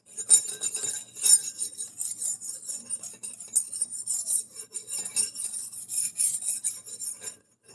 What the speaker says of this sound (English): The best knife sharpener.